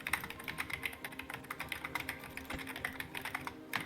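Someone types steadily on a computer keyboard at close range, producing quick irregular clicks with small pauses. Low background hum sits underneath.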